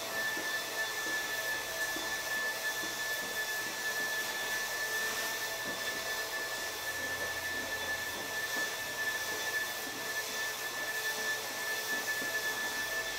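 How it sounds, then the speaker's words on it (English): A small electric vacuum pump of a blackboard vacuum eraser runs with a steady, even hum and a thin high tone, continuous throughout with no talking. "you turn on the switch on, the vacuum pump is pumping"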